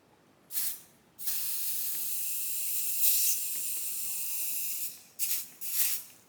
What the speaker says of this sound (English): like anything under aerosol, it has the tendency to blow things around